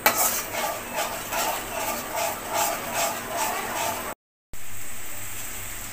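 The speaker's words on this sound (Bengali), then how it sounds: "ডিমটা ভেজে নিচ্ছে।" An egg fries in a pan, giving a soft sizzle with rhythmic stirring and utensil scrapes against the metal, fairly faint and close, then a short gap and a steadier hiss.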